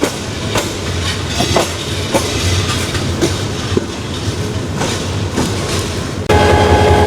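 Joyantika Express train pulling into Sylhet railway station, a steady loud rumble with rhythmic clickety-clack of wheels over rail joints, ending in a louder, brighter passage of rolling carriages.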